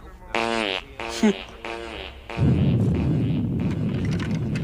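A cartoon fart sound effect plays as several loud, buzzy, tonal blasts of about half a second each, followed by a longer, rough, sputtering rumble, all close and prominent.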